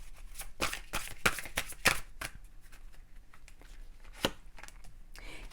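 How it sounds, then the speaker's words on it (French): Oracle cards being shuffled and drawn by hand, a series of quick crisp riffling bursts and soft slides, close and fairly quiet, with no talking over them. "on va prendre également une carte conseil"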